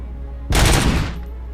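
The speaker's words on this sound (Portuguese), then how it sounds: "Sempre que eu vim aqui ele dá o tiro." Gunfire in the video game RoboCop: Rogue City: one loud close burst of rapid shots lasting about half a second, standing alone over a low steady background hum.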